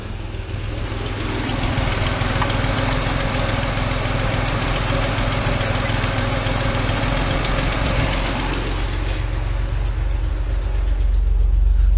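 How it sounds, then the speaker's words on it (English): A carbureted 1981–85 Ford Mustang engine idles steadily at about 800 RPM, a close, continuous low rumble with even vibration that holds constant throughout. "So we're running at 800 RPMs."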